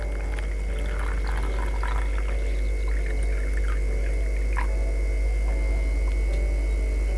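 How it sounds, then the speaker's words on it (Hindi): Water poured into a disposable cup, a steady thin trickle and splash over a constant low electrical hum, close by and moderately quiet. "पानी से भर लेंगे।"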